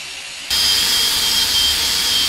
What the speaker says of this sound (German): Nachdem wir unsere Schweißnaht poliert haben